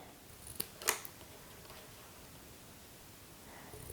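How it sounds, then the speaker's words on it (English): Scissors snip ribbon on a Christmas craft, two quick, faint cuts close together early on, then near silence with soft handling noise in a quiet room. "I'm just going to trim off this ribbon a little bit."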